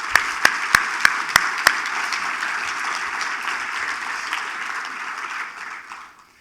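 An audience applauds at an advocacy award ceremony, opening with a few sharp individual claps before broad, steady applause swells and then fades out.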